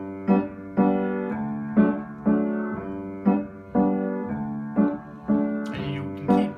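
Piano playing the simple intro of a song from The Sound of Music: a steady series of about nine evenly spaced, ringing chords and notes, each struck clearly and left to decay, heard alone and close.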